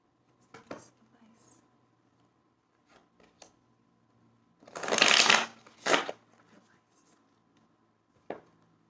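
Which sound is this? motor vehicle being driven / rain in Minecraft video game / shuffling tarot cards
shuffling tarot cards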